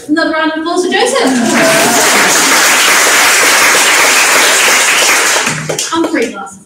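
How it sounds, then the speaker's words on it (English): An audience at a book anthology launch reading event in Manchester breaks into loud, sustained clapping and applause, with a voice speaking at the start and the end. "another round of applause for Joseph."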